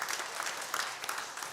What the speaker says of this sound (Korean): 우리 하나님께 영광의 박수 올려드리고.